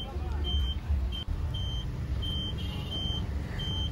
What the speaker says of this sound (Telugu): లారీ ఒకటి మన ముందుకి.